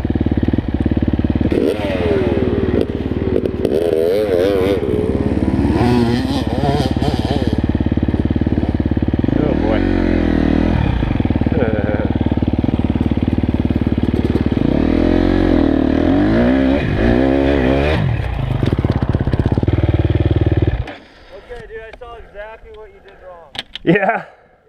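A dirt bike engine roars and revs continuously as it climbs a chalky hill, the pitch rising and falling with throttle changes, loud and close, before cutting off near the end, leaving brief quieter sounds.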